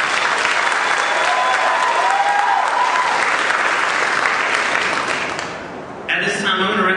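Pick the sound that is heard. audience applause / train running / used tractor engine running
audience applause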